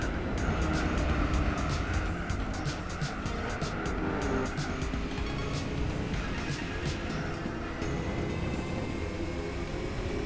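A Nissan Stagea with an RB26 engine in Gran Turismo 4 revs hard toward 8,000 RPM, a loud, sustained engine howl with rapid clicking ticks through the first half, under a steady roar.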